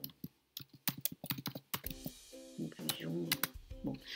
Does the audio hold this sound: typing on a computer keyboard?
yes